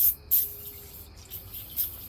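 Short hiss bursts of spray from a can as it's applied with a sharpening stone to a top-end engine part on a Kawasaki KE100 during teardown; two or three quick, close bursts with quiet gaps between.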